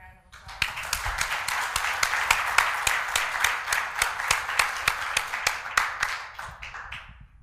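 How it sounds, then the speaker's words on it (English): Audience applause for the speakers at a fall conference, a steady wash of many hands clapping that swells up quickly, holds for several seconds with sharp individual claps standing out, then thins near the end. "let's give these guys a round of applause"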